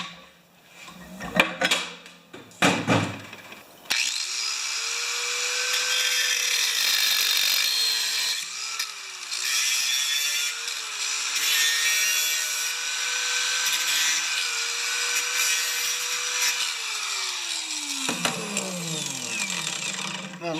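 Grinding or cutting metal off a worn part of an old Noma snow-blower, about 45 years old: a few sharp knocks and scrapes, then a steady, loud abrasive whine that wavers in pitch for about fifteen seconds before winding down.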